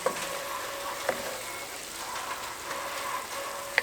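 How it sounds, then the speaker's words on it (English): Ground meat and onions for sloppy joes fry steadily in a pan, giving a continuous soft sizzle and crackle with a few small pops and a stirring scrape, close and moderately quiet. "I'm just going to let this brown up a little bit more and the onions soften"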